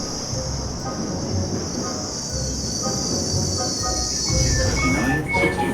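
Small single-decker train running on rails, a steady rumble with a sustained high wheel squeal and occasional clicking over the track, heard from on board or close by.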